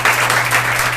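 Congregation at a Hindi-language Sunday church service clapping in a brief, dense burst of applause with a low steady hum underneath.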